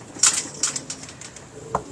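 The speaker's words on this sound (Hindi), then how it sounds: "ये कबूतर क्यों लेके आए आप?" Pigeons kept as pets flutter and make short soft sounds nearby, a few brief bursts over roughly two seconds with no talking.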